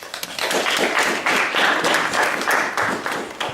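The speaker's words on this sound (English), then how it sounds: "Massive round of applause." A student audience at a union executive election gives a big round of applause, close, loud and dense clapping lasting the whole stretch after a brief quiet start.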